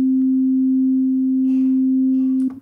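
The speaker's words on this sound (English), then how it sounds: "we've got this innocent sine wave behaving itself" A steady, pure sine wave tone from a Reason Studios Algoritm FM synthesizer holds at one pitch, smooth and unchanging, ending with a brief click and a faint rustle.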